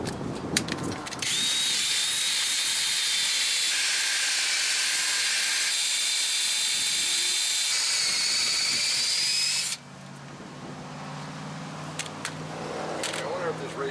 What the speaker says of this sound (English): We're going to take some of the rust scale off of the threaded part of the bolts that's exposed